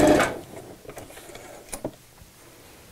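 A sewing machine stitches a seam on a stuffed dog bed, opening with a loud burst of running stitches, then dropping to quieter intermittent clicks and short mechanical whirs.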